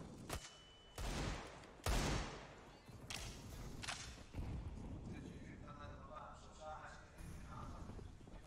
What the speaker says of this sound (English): Couple of good shots to find Device